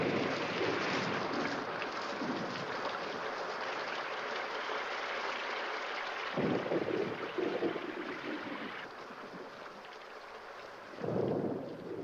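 Rain in an Alpine setting in a Tamil-dubbed cartoon: a steady hiss of heavy rainfall throughout, broken by two deep rolls of thunder midway and near the end.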